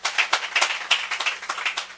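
An audience applauds at a real estate event, with brisk, continuous clapping that stays fairly loud, plus a few sharper individual claps.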